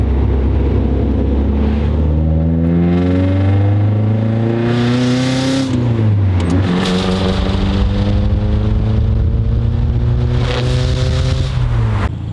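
Nissan 240SX fitted with an ISR exhaust accelerating hard through the gears, engine note climbing in pitch with brief dips at the shifts, loud and close throughout with no talking.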